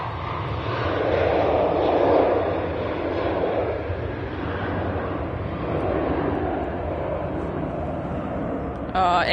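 Airbus A380 engines roar at Manchester Airport, a steady broad rumble at middle distance that swells and eases slightly, with a voice talking underneath.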